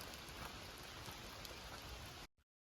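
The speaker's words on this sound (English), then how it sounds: "And it's still raining." Steady rain falls in Alaska near Denali on a cold, wet day, a dense even patter of drops on surfaces that continues close and constant before cutting off abruptly near the end.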